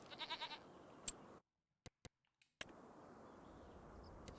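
Goats bleat in Farming Simulator 25: a short burst of wavering calls opens the clip, followed by a few isolated ticks in a near-silent gap, then steady outdoor ambience returns.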